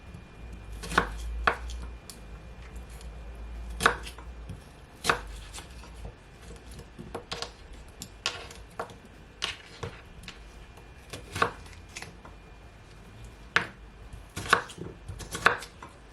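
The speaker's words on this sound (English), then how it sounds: "So this is the last cucumber that I'm cutting." A knife chops through cucumber on a cutting board for cucumber, mint, ginger and lime juice, giving a steady series of sharp, close, crisp knocks at an uneven rhythm with no talking.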